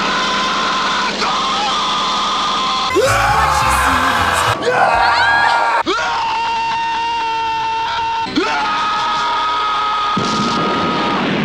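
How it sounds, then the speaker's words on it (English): A montage of movie clips of an actor screaming: several loud, strained yells and bellows in separate bursts, set against blaring film scores, engine noise and crashes from the scenes. "A montage of him screaming in movies."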